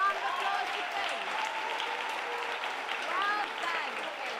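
Audience applause for a school reading contestant at a reading contest, a steady crowd clapping that holds for several seconds at an even level, with faint voices mixed in.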